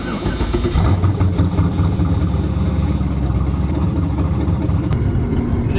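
A Ford Mustang with a built, boosted engine starting cold, a burst of revving followed by a loud, steady, rumbling idle close by, with no talk.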